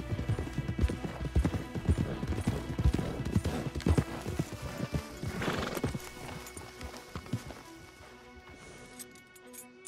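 Horses in Red Dead Redemption 2, hooves clip-clopping rapidly and close with jingling tack and a brief whinny, the hoofbeats fading away toward the end.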